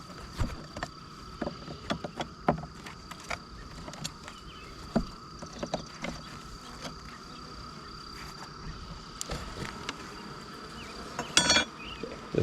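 Honeybees swarm and buzz around an open beehive during a spring honey harvest, a steady close insect drone broken by scattered soft knocks and brushing sounds of the hive being worked.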